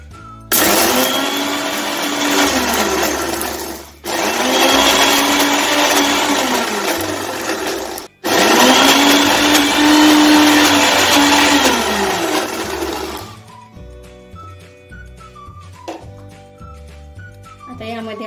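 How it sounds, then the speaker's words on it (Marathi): A mixer grinder blending mango pulp with sugar runs loud and steady in three long bursts separated by brief stops, its motor whine rising and settling, then falls silent as soft background music continues. "आता आपण मिक्सरच्या भांड्यामध्ये ग्राइंड करून घेऊया।"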